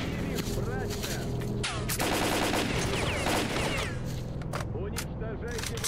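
Gunfire in S.T.A.L.K.E.R.: Call of Pripyat, sharp bursts of shots at mid distance mixed with game clatter and ambient noise, with a voice talking over part of it.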